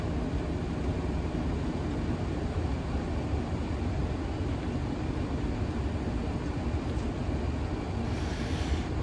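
Inside a Boeing 737 taking off from Rotterdam runway 24, a constant broad roar of engines and rushing air fills the cabin, loud and unbroken from start to end.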